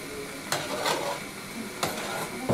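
Onions frying in oil in a pan while mantı is being made, a steady close sizzle broken by a few sharp clinks of a utensil stirring against the pan.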